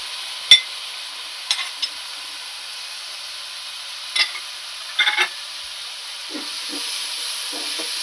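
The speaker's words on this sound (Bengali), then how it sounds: "এখন এটার মধ্যে ভাজা করে রাখা চিংড়ি মাছগুলো দিয়ে দেবো।" Fried prawns tipped into a pan of cooked spice masala for a bottle gourd and prawn curry, giving a few sharp scrapes and clinks of stirring at scattered moments over a faint, steady hiss of gentle sizzling.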